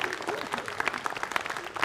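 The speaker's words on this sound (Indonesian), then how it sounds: "tepuk tangan dulu buat kita semua" A stand-up comedy open mic crowd in Ambon claps and cheers, dense and close, with sharp individual claps standing out through a steady roar.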